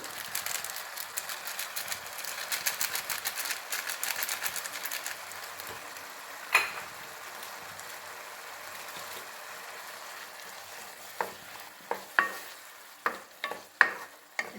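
Turmeric, chilli and coriander powder being sautéed in a pan for rajma masala, a faint steady sizzle with soft stirring, then a few sharper spoon knocks and scrapes toward the end, no voices.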